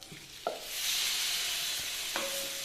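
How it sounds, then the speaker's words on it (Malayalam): Chopped lemon pieces dropped into chili powder frying in a pan for a lemon pickle, a couple of soft thuds followed by a rising, sustained hiss and sizzle with light stirring. "നമുക്ക് ഇതിലേക്ക് അരിഞ്ഞു വെച്ചിട്ടുള്ള നാരങ്ങ ഉണ്ടല്ലോ അതിട്ട് കൊടുക്കാം"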